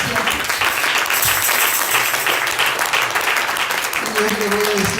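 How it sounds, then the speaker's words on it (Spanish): A church congregation applauds steadily and loudly together after a sermon, the dense clapping filling the space throughout with voices mixed in. "Vamos a darle un aplauso al que vive y reina para siempre."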